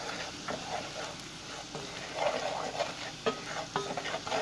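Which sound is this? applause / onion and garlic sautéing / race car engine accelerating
onion and garlic sautéing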